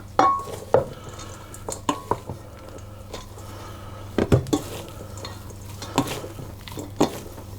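Potato and grated cheese filling for cheese and onion pasties being mixed in a bowl, with scattered soft scrapes and a few sharp utensil knocks against the bowl, close and moderate over a low steady background hum.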